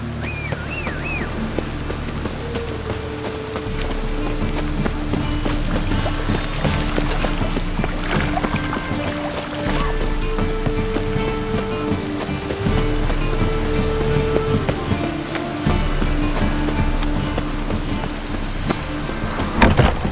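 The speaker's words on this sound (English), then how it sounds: "It just rains and rains." Steady rain patters on a surface with low rumbles underneath in The Witcher 3: Wild Hunt, continuous and moderately loud, while soft tonal music drifts through the background.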